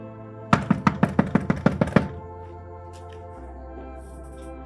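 Rapid knocking on a door, about ten firm knocks in quick succession, loud and close, followed by a low hum of room tone.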